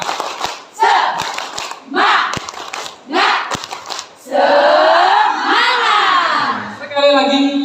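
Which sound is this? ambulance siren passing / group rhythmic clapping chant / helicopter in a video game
group rhythmic clapping chant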